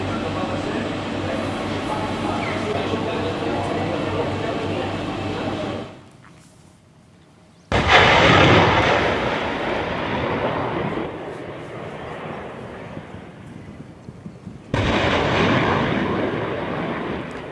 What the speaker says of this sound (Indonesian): Marinir Amerika Serikat melakukan uji tembak 12 roket dari peluncur bergerak di lapangan tembak kaki Gunung Fuji